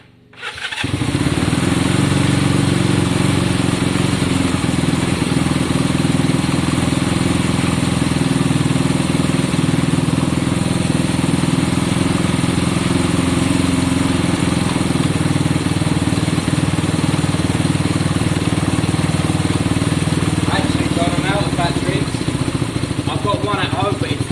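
A Honda CB200 motorcycle engine idles steadily and loudly right after starting, a continuous close mechanical drone with a faint voice underneath.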